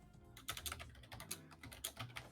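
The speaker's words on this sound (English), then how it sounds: "Can you hear the vicious typing from Larry?" Rapid, vigorous typing on a computer keyboard during a gaming session, a dense run of close, crisp key clacks at an uneven fast rhythm with no talking.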